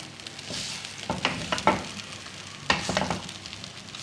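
Chicken and vegetable spring roll filling tossed and stirred in a hot pan, a low sizzle under several distinct scraping strokes of a spoon against the pan, close and moderately loud, without speech.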